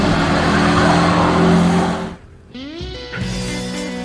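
A hooptie mini-truck engine revs hard and loud, then drops away briefly before climbing again in rising revs, close to the listener with no talk.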